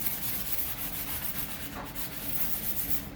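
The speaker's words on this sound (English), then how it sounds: "The sanding block takes off a lot of the" Steady rough scraping of a sanding block rubbing back and forth over the metal frame of a 1978 Suzuki PE250 dirt bike, continuous and close.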